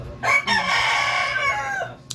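A rooster crows loudly and close by, one long drawn-out call with a rising start and a fading end. No talking.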